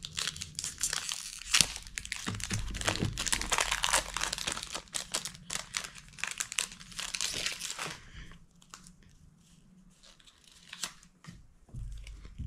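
Foil wrapper of a Pokemon card pack from a Pokemon Go Elite Trainer Box being torn open, close and crisp, with dense crinkling and tearing for several seconds before fading to scattered rustles.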